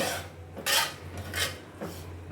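Mango dal being stirred in a metal pot, giving three separate scraping, clinking strokes of a spoon against the pot over a low steady hum, close and fairly quiet.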